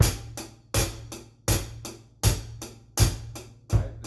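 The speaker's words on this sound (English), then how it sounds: "The first one is going to be the 8th note ostinato with accents on the beat" A drum beat with an accented 8th-note hi-hat ostinato on the beat, kick and snare landing in a steady repeating groove with strong regular hits and lighter hi-hat strokes between them, played alone and close.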